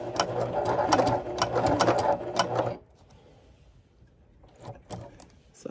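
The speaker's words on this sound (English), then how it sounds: "I would like to show you a little bit on how I sew the scallop edges on the machine." A sewing machine stitches scalloped edges on a clog upper, running in a steady close whir for a few seconds, then stopping, followed by quiet handling noises as the piece is rotated.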